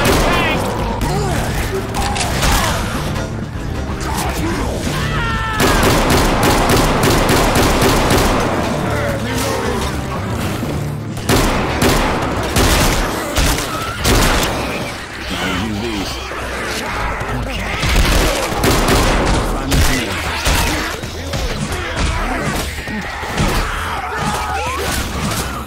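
Dense video-game gunfire from Left 4 Dead 2: rapid volleys of shots and bursts run almost nonstop, loud and close, with players talking over the combat.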